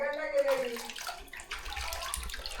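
A voice speaks briefly, then warm water splashes and sloshes close by as paws are soaked in it and stirred in a basin.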